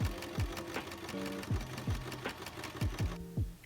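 A sewing machine runs a straight stitch on scrap denim for a mini bag, a close, steady, rhythmic whirring with regular needle thumps throughout.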